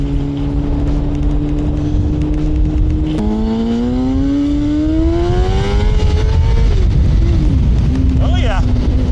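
Suzuki GSX-R 750 sport motorcycle accelerating hard into a power wheelie, a loud close engine note climbing steadily in pitch after a gear change, with wind rush and a voice talking over it.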